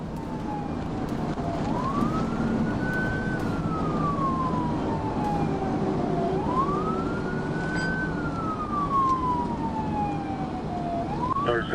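A police trooper's siren wails through a high-speed chase, rising and falling in two long sweeps over steady road and engine noise, loud and close, with no talk.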